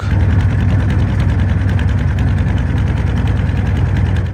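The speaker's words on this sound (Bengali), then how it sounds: "ট্রলার ছাড়লাম" A loud, steady chugging of a trawler engine running close by on a river, a constant rhythmic drone with no voices.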